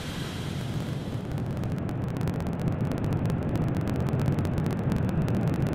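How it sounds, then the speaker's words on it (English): SpaceX Falcon 9 rocket lifting off with Starlink satellites, heard as a steady, loud broadband roar with distant crackling that holds unbroken throughout. "Ignition and liftoff."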